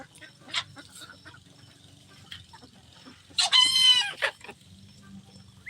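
Backyard flock of young chickens, including a black silver bantam rooster: soft clucks and scattered chirps at moderate distance, then one loud, clear crow rising and falling near the middle, over a low background murmur.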